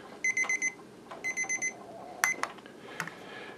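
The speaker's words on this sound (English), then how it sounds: "there's my timer." A kitchen timer beeps in rapid bursts during pressure canning with a Presto canner, two groups of quick electronic pulses, followed by a few clicks and a short beep as it is handled and silenced.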